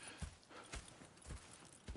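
Horse hooves clip-clop at a walking pace in the video game Red Dead Redemption, soft regular thuds about twice a second, fairly faint over a low ambient background.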